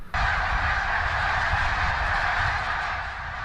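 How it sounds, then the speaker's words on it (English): Dense flock of snow geese honking continuously, a loud overlapping chorus of calls at close to moderate distance, filling the whole stretch without a break. "Outdoor enthusiast Jason Michael let us know the snow geese were here, then became our guide to help find them."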